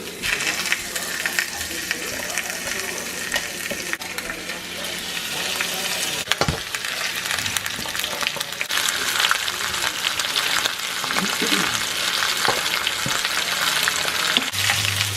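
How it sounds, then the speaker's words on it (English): Oxtail pieces sear in hot rippling oil in a pan for a stew, a steady crackling sizzle with occasional clinks and scrapes of a utensil against the pan, close and continuous without talk. "it's ready for me to go ahead and start searing"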